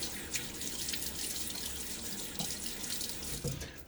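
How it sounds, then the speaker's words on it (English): Cold tap water runs steadily from a faucet into a bathroom sink, a close, constant splashing stream with no talking. "Tap water is cold."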